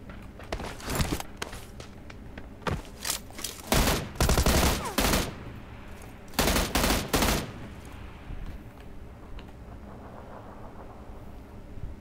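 Gunfire in the video game PUBG: loud bursts of rapid automatic shots in several clusters, separated by quieter stretches with faint footsteps, fading to low ambience near the end.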